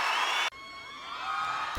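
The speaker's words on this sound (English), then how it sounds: "crowd noise." A crowd noise sample from a speed garage production sample pack plays as a short burst of cheering and whooping, cut off abruptly, then replaced by a fainter, more distant crowd texture.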